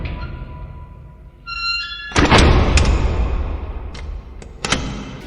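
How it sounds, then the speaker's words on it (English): A heavy metal door sound effect for a video game: a loud clanking thunk and rumbling slide, with a sharp impact near the middle and a second clank later, alone with no voices. "the only one I had credits for was the big metal door"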